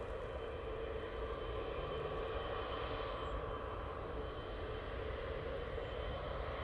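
A Ryanair airliner arriving from Belfast at Manchester Airport gives a steady, broad engine roar that holds at constant loudness, with no voices.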